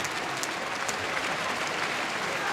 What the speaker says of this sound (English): Really good round of applause from the crowd here